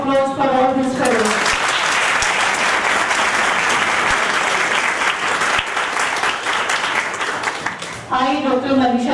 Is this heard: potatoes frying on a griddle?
no